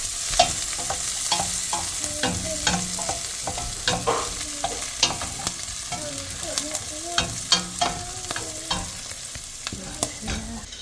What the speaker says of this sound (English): So I'm just frying up some seasoning here.